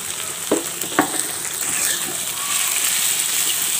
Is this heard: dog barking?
no